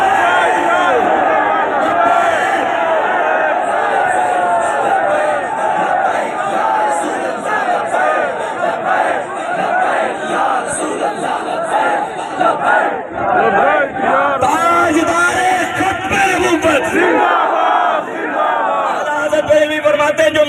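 A large crowd at a Tahafuz Khatam e Nabuwat religious rally in Faisalabad chants slogans, a loud, continuous massed roar of voices that rises and falls in waves, with an amplified speaker's voice mixed in.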